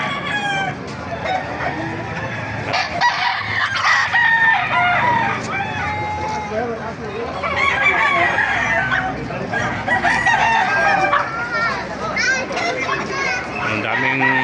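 Roosters crow repeatedly amid clucking hens at a busy chicken market in Baliuag, Bulacan, loud and close, layered over chatter of people and children's voices.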